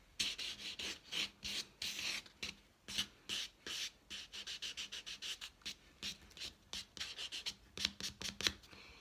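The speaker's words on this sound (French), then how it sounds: "vous venez prendre un bloc polissoir pour venir faire la surface de l'ongle" A polishing block is rubbed over the surface of a fingernail in quick, close, faint back-and-forth rasping strokes, dozens of short scratchy bursts in a steady irregular rhythm.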